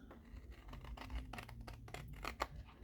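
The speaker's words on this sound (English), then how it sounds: "So I'm just going to use my scissors" Metal scissors snip through folded origami paper in a run of quick, close, crisp cuts with short pauses between strokes, a dry scratchy texture standing alone with no voices.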